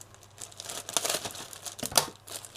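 Someone handles a tough plastic bag holding HG Hi-Zack Custom model kit parts, giving close, irregular crinkling and rustling bursts with louder crackles, no talking.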